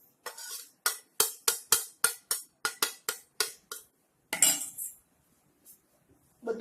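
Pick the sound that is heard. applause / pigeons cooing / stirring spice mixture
stirring spice mixture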